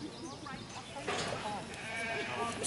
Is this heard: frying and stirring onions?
no